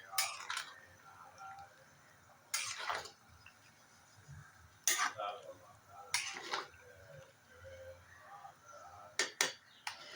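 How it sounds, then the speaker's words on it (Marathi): A pot of Maharashtrian vegetable bhaji with coconut, stirred and then covered with a lid, giving several sharp metallic clinks and clatters spread across the stretch, each brief and fairly close, with quiet gaps between them. "आणि आता ढवळून आपण झाकण ठेवायचं."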